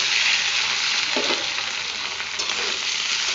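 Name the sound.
potatoes frying in a pan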